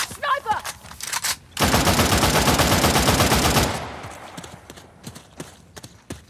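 A sustained stretch of loud, rapid gunfire rings out in Uncharted: The Lost Legacy, with scattered sharp shots and clatter before and after it. Voices can be heard faintly around the gunfire.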